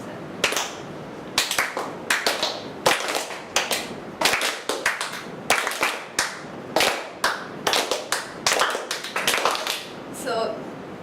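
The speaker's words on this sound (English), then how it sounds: "I use a clap, and everyone has to follow me" A classroom of people echoes a teacher's rhythmic clap pattern, with bursts of sharp, close hand claps in short groups separated by brief pauses, repeating over several rounds.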